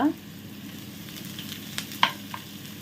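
Frying in a pan over a medium flame, a steady low sizzle with a couple of sharp clinks and scraping stirs, close by, no speech.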